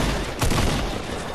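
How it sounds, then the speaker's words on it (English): Dense gunfire in Fortnite's Horde Rush mode as several players shoot at a boss, a steady loud wash of rapid shots with a slightly heavier burst near the middle. "we're all shooting at him"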